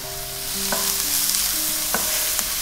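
Celery and white onion frying in a pan, a steady close sizzle with a few short scrapes as the vegetables are stirred, no talking.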